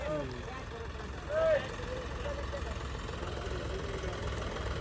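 A John Deere tractor engine drones at a steady mid-low pitch while towing a combine harvester stuck in a wheat field, running continuously under faint background noise with one short louder swell early on.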